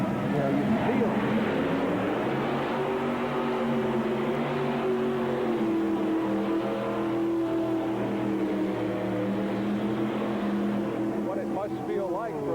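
Pulling tractor engine roaring at a monster truck tractor pull in St. Louis, a sustained heavy throbbing drone with steady loud power, as an announcer talks over it throughout.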